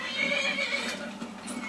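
Shadowmere, the black horse from the video game Skyrim, gives a loud, sustained neigh over steady game ambience, with faint hoof clatter beneath.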